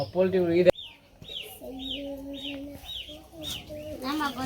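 Poultry chickens cluck in a repeated series of short, rising calls, fairly close and clear, set between bursts of people talking at the start and end.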